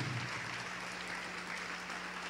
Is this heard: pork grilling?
no